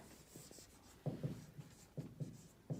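Pen or pencil scratching on paper or a board while a sentence is handwritten during a grammar lesson, with quiet irregular strokes and taps in short bursts, fairly faint and without speech.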